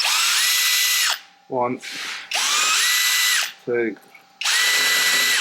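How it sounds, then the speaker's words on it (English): Power drill boring holes in a Land Rover body to mount a Safari-style snorkel, in loud sustained bursts of about a second each, separated by short pauses where a voice counts aloud. "I'm going to have to drill 4 holes"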